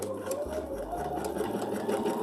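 A sewing machine stitches a quilt along a drawn line, a steady close whirring hum of the needle running continuously at moderate volume, with no talking.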